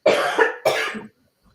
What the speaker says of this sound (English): You can't be coughing in these times.